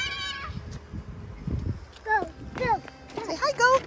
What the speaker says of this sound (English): Oh, look, the goat.